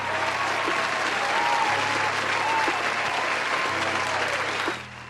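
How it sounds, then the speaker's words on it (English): An audience applauding: dense, steady clapping from many hands for about four and a half seconds, then trailing off quickly, over a low background hum. "I'd like to give y'all a round of applause and thank you for your ongoing support."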